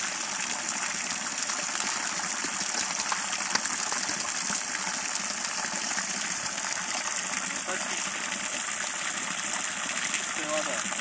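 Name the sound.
clean water gushing from a spring by the Klyazma river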